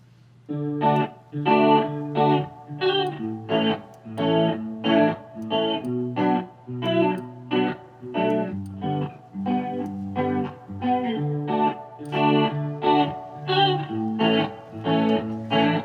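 Music with a shimmering, slightly detuned Microshift pitch-shift effect thickening the sound, giving a wide, chorus-like wash over a steady rhythmic pattern.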